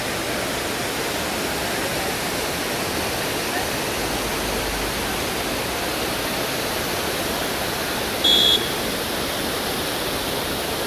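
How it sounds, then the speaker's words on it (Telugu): Cheeyappara waterfall beside a roadside in Kerala pours in a steady, loud, broadband rush, continuous and unbroken throughout, with a brief faint beep near the end. "ఈ వాటర్ ఫాల్స్ పేరు నుంచి చియపరా వాటర్ ఫాల్స్. ఇది రోడ్డు పక్కనే ఉంది."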